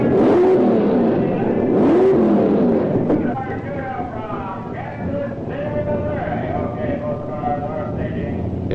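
1960s FX-class drag race cars rev and launch in a loud burst of rising engine tones over the first few seconds, then a steady roar continues under voices.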